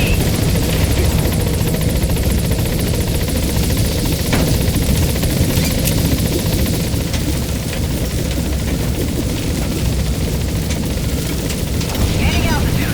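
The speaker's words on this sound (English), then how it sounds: "This is B-Quad. Arriving shortly at LZ." A helicopter in the video game Metal Gear Solid V gives a loud, steady rotor-and-engine roar that holds at an even level for the whole stretch.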